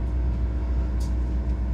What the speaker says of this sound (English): sorry about the noise, I'm on the plane